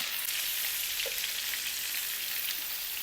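Tomatoes and green chillies fry in a pan with a continuous, even sizzle that stays steady and fairly loud throughout, with no talk.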